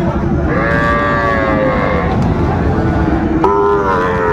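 A Sahiwal bull calf moos twice at a busy cattle market, one long drawn-out call and then a shorter one, both standing out over a dense, constant crowd din.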